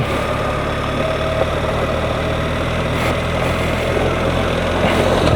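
A BMW R1300 GSA motorcycle engine runs with a steady, loud mechanical drone and a low, even throb, holding constant throughout without talk.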